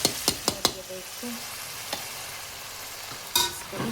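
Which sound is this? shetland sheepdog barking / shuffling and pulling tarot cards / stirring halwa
stirring halwa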